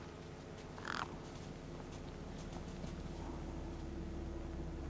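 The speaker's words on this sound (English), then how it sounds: "No way I was going to get between those birds and their feast." Birds feeding on a corpse in a video game, crows giving a loud caw near the start followed by fainter scattered calls over a low steady ambient hum.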